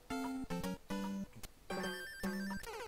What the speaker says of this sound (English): Someone better pick up that phone.